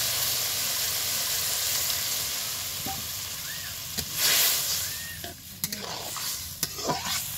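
Water poured onto sautéed cabbage, capsicum and tomato in a hot pan, a continuous loud sizzle and hiss with brief bursts of steam and a few clinks and stirring knocks toward the end.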